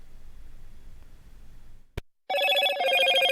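A Motorola phone ringtone in a TV advert: a bright, loud repeating melodic trill starts abruptly after a brief click and a moment of silence, cutting in over a quiet background.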